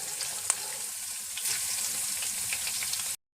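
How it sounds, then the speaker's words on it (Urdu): Crushed ginger and garlic frying in a pan for a squash vegetable dish, a steady bright sizzle close up with a few small pops and stirring sounds, ending abruptly, no talking. "یہ کوٹا ہوا ادرک اور لہسن ڈالیں گے۔ اس کو فرائی کر لیں گے تھوڑا"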